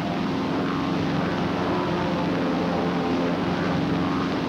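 A propeller airplane engine roars steadily during formation flight, a loud continuous drone that stays level throughout with no voices.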